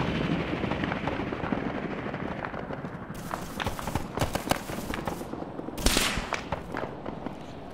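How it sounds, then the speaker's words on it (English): In a video game battle, a helicopter-mounted PKT machine gun fires down in short, sharp bursts over a constant rotor drone. The rattling cracks grow denser in the second half, with one louder burst near the end. "we still got the PKT off of that helicopter firing down where it can as well"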